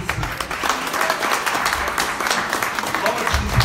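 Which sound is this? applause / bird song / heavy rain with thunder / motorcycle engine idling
applause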